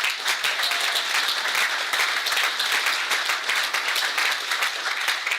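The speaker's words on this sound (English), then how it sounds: "Give them a round of applause" A crowd at a groundbreaking ceremony applauds Matt Light and John Hughes, a full, steady round of clapping that holds at an even, moderately loud level from start to finish.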